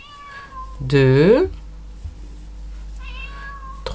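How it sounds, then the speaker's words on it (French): A cat gives one loud, drawn-out meow close by, with a fainter meow following a couple of seconds later, while someone talks before and after in a quiet indoor room. "Désolée pour le chat qui miaule."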